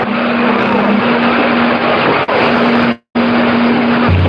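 An old diesel car engine in Arizona traffic, a loud steady rumble with a constant low hum, briefly cutting out near the end before resuming.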